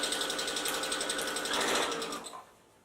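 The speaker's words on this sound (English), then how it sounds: "we'll stitch along using my foot as my guideline for a straight line" Sewing machine stitching fabric for a scrunchie, running steadily and close for about two seconds with a rapid even needle rhythm, then slowing and stopping.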